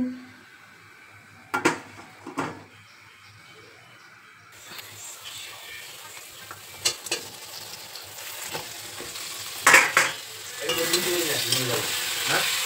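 Chicken frying in oil in a wok after garlic, onion and potatoes were prepared, with a soft sizzle building after a quiet start, punctuated by several close scrapes and clinks of a spatula stirring against the pan.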